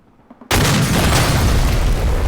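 A mortar high-explosive shell explodes in the military game AS2, with a sudden loud boom after near silence, then a sustained roaring rumble of debris that continues to the end.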